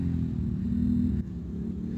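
An off-road bike engine runs loud and close in mud, a steady throaty rumble that rises in a brief rev then drops back, with no talk over it.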